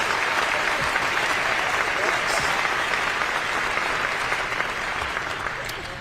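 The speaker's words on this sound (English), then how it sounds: "Number one applause for Shaye, please" Mourners at a memorial service for a murdered King County Metro bus driver applaud a speaker, a steady, full round of clapping from a large audience that tapers slightly near the end.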